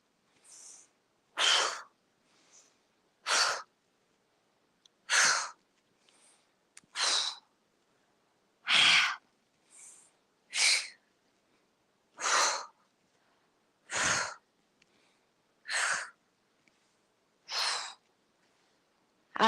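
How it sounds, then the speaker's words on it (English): Deep breaths drawn in through the nose and let out through the mouth during a gentle tai chi session, about a dozen evenly spaced breathy whooshes separated by quiet pauses, close and clear. "we inhale through our nose and exhale out our mouth"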